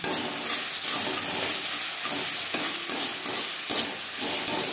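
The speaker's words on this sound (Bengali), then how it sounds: "কাঁচা গন্ধ যাওয়া পর্যন্ত নাড়াচাড়া করে দেবো" Sliced tomatoes with turmeric powder and salt frying in a pan, a steady loud sizzle broken by regular scraping stir strokes roughly every second, close and without voices.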